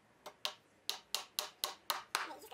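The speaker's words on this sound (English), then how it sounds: "and nail in place." Nails are hammered into a wooden pallet board with seven or eight sharp, evenly spaced blows in quick succession, close and clear, each a bright woody crack.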